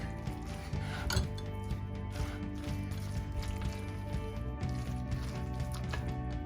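A spoon stirs and scrapes a bacon and cheese mixture in a bowl, giving soft, continuous squishy mixing with occasional clinks against the dish, close and steady.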